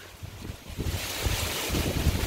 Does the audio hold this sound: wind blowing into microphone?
yes